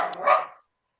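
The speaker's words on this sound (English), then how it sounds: "He's a little Chihuahua staff cross." A small Chihuahua and Staffordshire cross dog gives a brief, close bark lasting about half a second, then silence.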